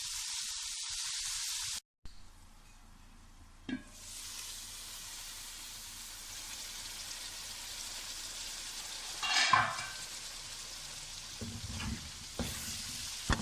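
Karahi gosht onions cooking on low heat in a covered karahi, a steady soft sizzle running throughout with brief clinks and stirring noises around the middle and near the end.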